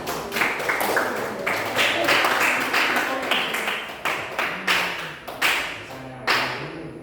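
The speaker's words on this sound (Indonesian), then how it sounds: "tepuk tangan untuk kelompoknya" Students in a classroom clap for a class group in a series of sharp, scattered claps that thin out and grow sparser toward the end, with voices talking underneath.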